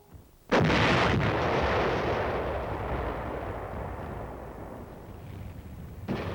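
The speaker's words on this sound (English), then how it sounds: "Fire mission, enemy mortar, coordinates 384-621." A single loud artillery blast fired on an enemy mortar position in the Korean War, a sudden heavy boom followed by a long rumbling roar that slowly fades, then a second burst near the end.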